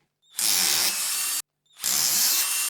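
Power tool driving out the motor mount bolts on a Tron 7.0 helicopter, two sustained high-pitched whirring bursts close up, each starting abruptly and separated by a short pause.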